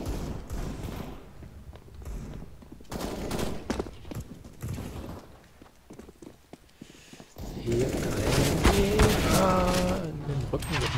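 Rapid gunfire bursts and single shots in a CS:GO match, loud and dense, with a voice talking over the shooting and a busy stretch of overlapping weapon fire toward the end.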